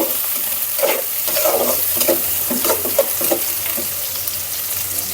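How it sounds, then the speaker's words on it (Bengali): Onions and green chilies fry close by in a pan. A constant sizzle runs under repeated scraping and stirring strokes, with a faint low hum underneath. "পেঁয়াজ কাঁচামরিচ দিয়ে একটু কষিয়ে নিব"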